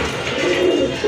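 A sky-blue pair of gola pigeons kept for sale, a soft continuous low cooing close by, fairly loud and alone throughout the short stretch.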